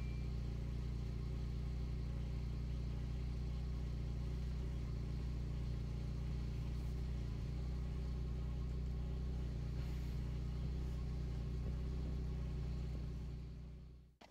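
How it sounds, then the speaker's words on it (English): A car engine idles steadily just after being started, a constant low rumble that stays even and close throughout before cutting off at the end, with no voices. "I start the engine."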